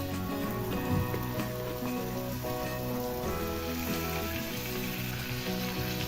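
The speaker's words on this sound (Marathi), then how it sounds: "आता बांगडा असा तेलातच परतून घ्यायचा आहे थोडा वेळ" Dried mackerel sizzling steadily in hot oil in a pan, a dense continuous crackle and hiss that stays close and even for the whole stretch, with no talking.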